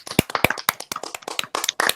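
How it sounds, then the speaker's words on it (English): Hands clapping along to a line-dance song during a virtual improv show, irregular close claps in quick succession, dry and uneven rather than a crowd wash. "Everybody clap your hands."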